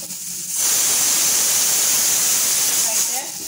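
Half of a coarsely ground coconut paste for mathanga payar erissery, a pumpkin and cowpea curry, fries in a pan until brown. It gives a loud, steady, close hiss that swells in and runs unbroken for about three seconds.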